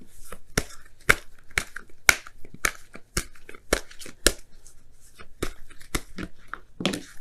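Oracle cards are shuffled and drawn during a tarot reading: a quiet series of sharp, dry card snaps and flicks, spaced irregularly every half second or so, with no talking over them.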